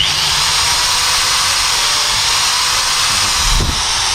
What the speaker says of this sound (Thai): เดี๋ยวผม เอาสว่านมาลองดูด้วยนะเนี่ยเนี่ยสว่านนะครับ